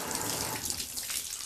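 Water runs steadily from a tap into a bathtub to rinse it after scrubbing off soap scum and stains, a continuous close splashing rush with no pauses.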